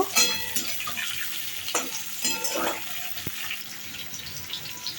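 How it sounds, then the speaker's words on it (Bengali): Vegetables frying in mustard oil with dry red chilli, bay leaves and whole cumin, giving a busy close sizzle broken by spoon scrapes and metallic clinks while stirring. "এবার সবজিগুলো দিয়ে ভালো করে ভেজে নেব।"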